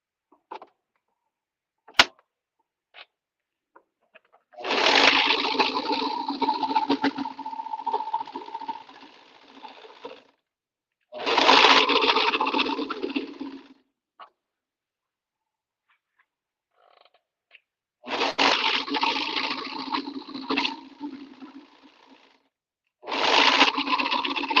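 A serger overlock sewing machine stitches fabric in several bursts of a few seconds each, loud buzzing whir separated by silent pauses and small clicks.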